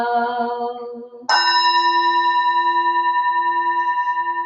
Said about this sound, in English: for the sound of the bell